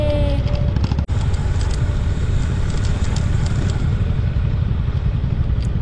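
Dirt bikes at a Honda dirt track training camp in Kolkata, a dense, loud, continuous drone of several motorcycle engines idling and revving nearby with a brief sharp clack early on, no voices.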